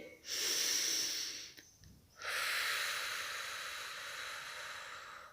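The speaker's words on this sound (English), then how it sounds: "breathing in, exhale as you contract back into the body" Yoga breathing heard up close: a long airy inhale, a short pause, then a drawn-out hissing exhale that slowly fades, with no talk.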